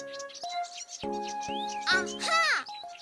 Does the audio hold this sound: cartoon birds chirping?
yes